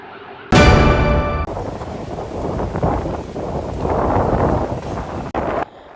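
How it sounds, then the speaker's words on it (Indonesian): Storm wind roars across Padang beach in a steady, loud rush with gusting swells and buffeting against the microphone, sustained throughout with no voices. "Beginilah suasana di Pantai Padang pada Jumat petang pekan silam saat badai melanda."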